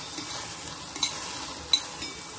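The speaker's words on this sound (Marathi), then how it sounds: "इथे आपण वाटाणे असे भाजून घेऊया" Damp green peas dry-roasting in an oil-free kadai, a soft, constant hiss with faint crackles and a few light scraping stirs.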